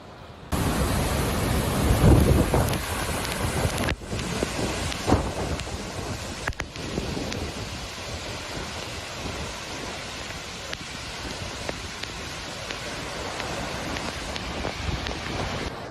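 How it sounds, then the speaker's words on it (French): A huge waterfall on the Yellow River roars without pause, torrents crashing in a dense, loud wash of noise that fills the scene, with no voices heard. "Les flots sont déchaînés. C'est vraiment comme si l'eau du fleuve jaune tombait du ciel"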